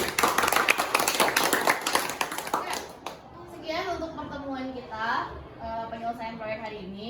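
Students in a classroom clap together in a quick, crisp burst of many hands for about three seconds; then the clapping stops and children start talking.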